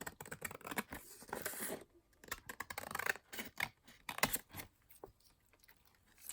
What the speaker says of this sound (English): we're going to trim along the bottom to open that up